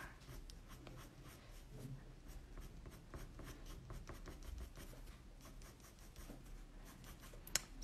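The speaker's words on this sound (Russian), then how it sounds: "И вот так карандашом мы тут вот все затемняем потихонечку." A pencil shading on paper, giving soft continuous scratchy strokes in a steady back-and-forth rhythm, close and quiet, with no voices.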